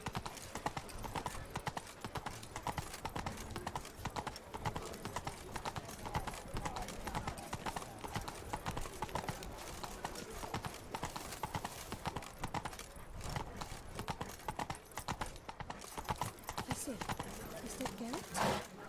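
Roach, Geralt's horse in The Witcher 3, walks with steady clip-clopping hooves close by for the whole stretch, and a voice talks over the hoofbeats near the end.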